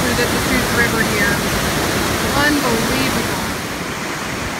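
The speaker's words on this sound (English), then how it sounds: "These are the rapids when you're coming up on Dillon Falls." Roaring rapids of the Deschutes River near Dillon Falls, swollen with a massive volume of water, a dense continuous rush filling the foreground at steady loudness, easing slightly at the end.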